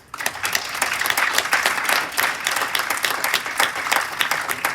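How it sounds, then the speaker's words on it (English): Steady applause from a crowd at a board of directors meeting, dense clapping that holds for several seconds without a break. "I think that we do owe Cliff a big round of applause."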